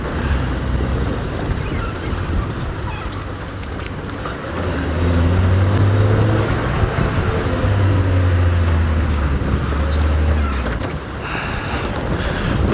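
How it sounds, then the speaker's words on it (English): A safari vehicle nicknamed Rusty on an early-morning game drive, its engine rumbling steadily up close with a low droning note that swells midway, mixed with wind buffeting the microphone and no talk. "it sounds like a performance engine and a performance car"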